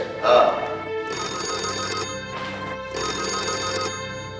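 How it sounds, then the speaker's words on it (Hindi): A telephone bell rings in a Hindi drama series, two long trilling bursts separated by a short gap, loud and close, with a brief voice murmur at the very start. "डॉक्टर सुबोध का फोन है।"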